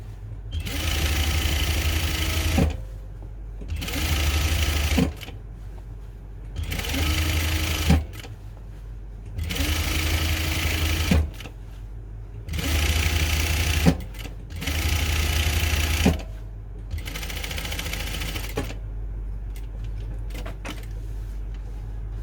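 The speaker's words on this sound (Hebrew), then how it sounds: "אנחנו פשוט תופרים תפר" Home sewing machine stitching a seam on fabric for an 80s-style skirt, motor whirring in repeated runs of a few seconds separated by short pauses, close and steady with no talk.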